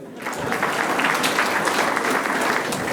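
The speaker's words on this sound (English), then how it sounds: "A clap for them" An audience at a marketers' evening event in Nairobi breaks into applause, a dense, even wash of clapping that swells quickly and holds steady at a fairly loud level for a few seconds.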